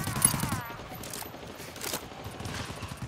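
Gunfire aimed at a charger enemy in the co-op shooter GTFO, a quick rattle of rapid shots at moderate distance under a brief burst of noisy voices and game sounds, fairly quiet overall.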